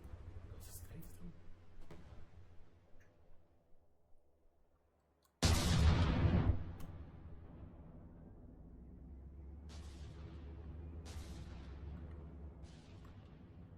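Weapons fire armour-piercing rounds in a video game, one loud, sharp blast standing out amid fainter clicks and thumps, with players talking throughout.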